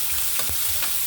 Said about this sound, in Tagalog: ginisa ko muna ang atay at saka chicken